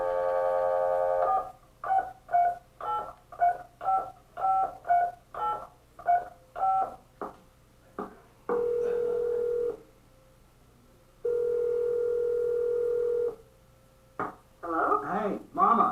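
Telephone keypad tones in a missile launch control center: a quick run of evenly spaced button beeps, then two longer steady tones separated by a pause, and a burst of other sound at the very end.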